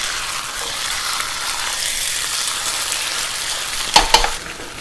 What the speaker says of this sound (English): So basically we want to stir fry our chicken just until you see that parts of the chicken